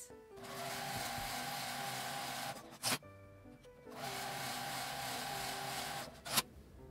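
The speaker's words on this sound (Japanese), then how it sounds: "上下に端ミシンをかけます。" Sewing machine stitching along the top and bottom edges of a fabric mask cover: two steady runs of rapid mechanical whirring, each a few seconds long, separated by a brief pause with soft clicks and handling.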